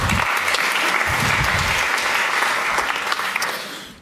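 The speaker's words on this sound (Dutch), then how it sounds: "APPLAUS" An audience at an evening talk event breaks into steady applause, dense and close, holding at a constant level for several seconds before starting to fade at the end.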